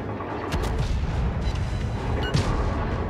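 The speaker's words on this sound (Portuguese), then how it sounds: "agora sim ele soltou o tiro" Battleship guns fire in the naval video game World of Warships, deep rumbling booms with a couple of sharper blasts over a continuous low roar of combat.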